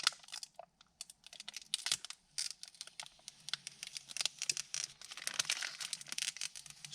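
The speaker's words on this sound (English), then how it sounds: "You want to pull the plastic off?" Protective plastic film is peeled off the screen of a new Android car stereo in a 2017 WRX, making close, faint crinkling and crackling with irregular bursts of rustle and small snaps.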